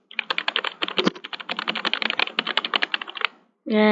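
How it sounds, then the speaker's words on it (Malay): Rapid, crisp keystrokes clack on an Aula F3061 mechanical keyboard in a fast, uneven run, close up; a voice begins just at the end. "Keyboard ni adalah saya pakai keyboard Aula F3061. Sangat sedap bunyi dia."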